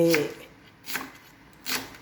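Three separate knife chops through an onion on a cutting board, spaced roughly evenly apart, crisp and close, with a brief voice at the start.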